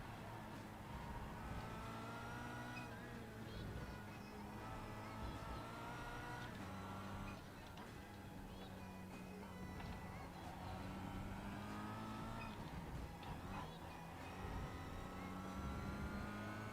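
An IndyCar racer in the iRacing video game laps the Detroit street circuit, its engine note rising and falling through repeated gear changes and accelerations, steady and moderately quiet throughout.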